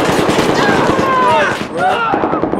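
Rapid gunfire in the shooter game Battlefield rattles in dense bursts, loud and close, with voices talking over the top the whole time.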